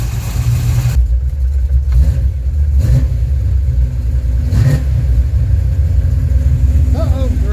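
Engine of an old project car, sitting unused for 26 years, runs at a loud, steady rumble close by, with throttle blips worked through the throttle cable, and a voice speaks briefly over it.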